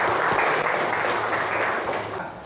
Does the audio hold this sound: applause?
yes